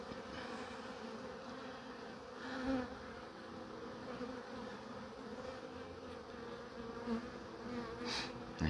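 Honeybees drone with a steady, dense buzz throughout an open-hive inspection, the hum holding at a fairly even level with a few brief swells as bees move close by.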